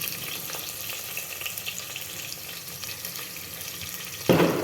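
Mutton being stirred in a cooking pot: a continuous soft sizzle and bubbling with faint stirring scrapes, then a sudden louder splash or pour of liquid in the final moments.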